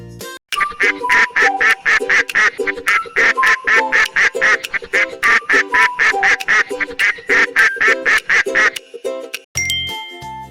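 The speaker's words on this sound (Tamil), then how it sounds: "வாத்து எப்படி சத்தம் போடும்? குவா குவா என சத்தம் போடும்" A duck quacks in a fast, steady series of loud, close calls that runs for several seconds, ending with a short bright chime.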